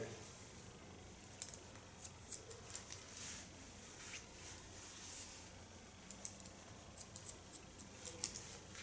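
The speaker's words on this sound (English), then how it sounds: "you can hear the scissor, the snapping of the blades" Scissor blades snip repeatedly at close range cutting long hair, quick crisp snaps in an uneven rhythm over a soft background hiss.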